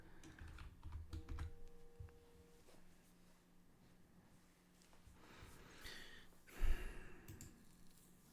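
Computer keyboard typing in short bursts of clicks, fairly quiet and close, with a sigh or breath and some soft background sound between the keystrokes.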